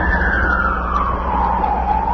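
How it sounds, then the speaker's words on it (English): Emergency vehicle siren in a news broadcast from a smoke-covered downtown, a loud wailing tone sweeping slowly downward in pitch over steady background rumble, with no talking. "That siren is our world."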